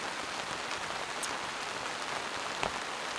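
Heavy rain drumming steadily on a large air frame tent, a dense, continuous hiss heard close up, with a couple of louder drips.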